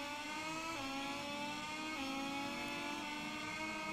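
Motorcycles accelerate in MotoGP 21, a loud high-pitched engine whine with several bikes climbing through the revs and shifting gears, close and continuous with no talk.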